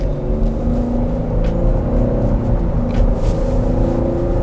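Steady V6 engine rumble from inside a 2024 Chevrolet Blazer as it merges into traffic and accelerates, a constant low drone with a rising hum, fairly loud.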